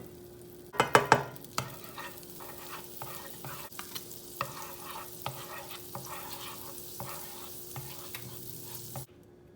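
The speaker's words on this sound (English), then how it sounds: "So get a nice pat of butter in there." Butter sizzles in a frying pan for breakfast eggs: a brief clatter of utensils at the start, then a soft, steady frying hiss with scattered small pops and scrapes, heard close and alone.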